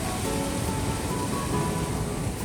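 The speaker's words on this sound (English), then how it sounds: "you probably can't hear me much over the waves. They're very strong today" Strong ocean waves crash on a Sri Lanka beach, a loud, continuous roar of surf filling the whole moment with no break.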